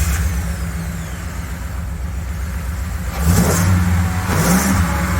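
An American motorhome's big V8 engine idles with a throaty rumble, then revs up sharply twice in short bursts, loud and close.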